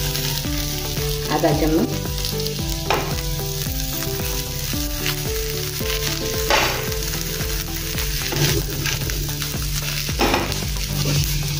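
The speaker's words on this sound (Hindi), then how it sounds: "अभी इसमें हम लहसुन और जीरा और अदरक इसका पेस्ट डालेंगे" Garlic, cumin and ginger paste frying with onions and green chillies in a pan, a steady loud sizzle with stirring scrapes, and a brief voice speaking over it.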